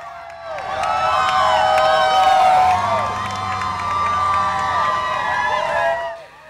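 A crowd of spectators along the Los Angeles Marathon course cheers and shouts, children's voices and whoops rising over a loud, sustained roar with some clapping.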